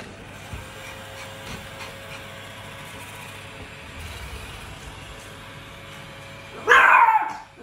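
A Pomeranian lets out one sharp, loud bark near the end, after several seconds of quiet indoor hum near a robot vacuum.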